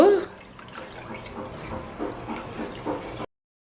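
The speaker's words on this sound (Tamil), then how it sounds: "இதை நல்லா ஒரு கட்டியுமில்லாம் நல்லா கரைச்சி விடுங்க" Rice flour being stirred into water for Sri Lankan rice flour dodol (kalu dodol) batter, a soft continuous sloshing and liquid swirling at close range with small splashy bursts, steady for about three seconds before stopping.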